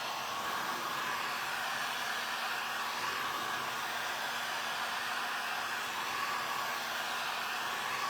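Hair dryer blowing steadily and close, drying fresh craft finish on a thrift store tray, a constant broadband whoosh holding the whole stretch with no talk.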